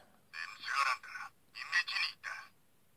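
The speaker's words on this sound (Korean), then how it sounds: "어, 전화가 왔네요." A toy transformation phone from Kamen Rider Den-O, the DX Climax Phone, rings with two bursts of a bright electronic trill, each about a second long with a short pause between, close and moderately loud.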